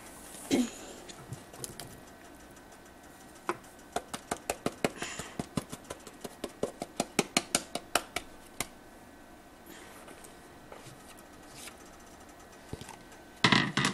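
Strawberries are stirred into pancake batter in a bowl with a run of soft, regular spoon taps and squelches through the middle, then quieter stretches with a few clicks at the ends.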